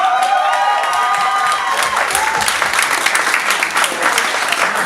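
Loud crowd applause with cheering and whoops at an industry music showcase, the clapping dense and sustained throughout and a few shouted voices rising over it.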